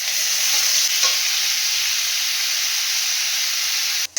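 Fish, potatoes, onion and tomato fry in a pan with a loud, steady sizzle and hiss, constant throughout with only a faint tap or stir now and then and a brief break at the very end.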